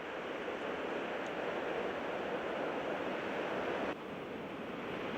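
Steady roar of surf breaking on an island beach in Queensland, a continuous broad wash of waves heard from close by with wind noise and no other sounds.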